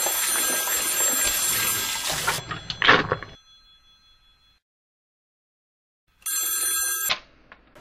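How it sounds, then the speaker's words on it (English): A telephone rings in bright electronic bursts, sounding twice with a silent gap between, in a dramatized indoor scene with no speech. "Ivy, what are you doing calling me on this phone?"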